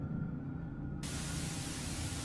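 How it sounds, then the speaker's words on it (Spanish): Phone call static from a creepy horror story: a low hum runs alone at first, then a steady, hissing wash of white noise abruptly floods in and holds, with no voice. "Estática es todo lo que pude escuchar."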